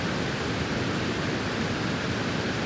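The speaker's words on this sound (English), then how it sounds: "We got this big creek running here." Water rushes continuously in a steady broadband hiss, like a full creek flowing nearby, with no voices.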